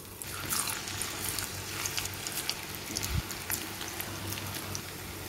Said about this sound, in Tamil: இப்போ இந்த 2 சைடும் நல்லா நம்மளுக்கு கோல்டன் கலர் வர வரைக்கும் நல்லா ஃப்ரை ஆகணும்